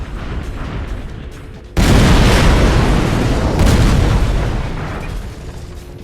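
Weapon explosions in the video game Armored Core: after a quieter stretch, a sudden heavy boom erupts into a loud, sustained rumbling blast that slowly fades, with no voices.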